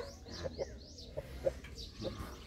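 A brooding pure white Brahma hen clucks in a few low, separate notes close by, with soft farmyard sound and faint chirps around her.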